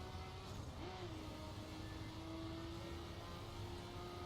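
A fast car on a dirt road in The Crew racing game, its engine holding a steady high whine with a brief pitch dip early on, continuous and fairly quiet, with no talking.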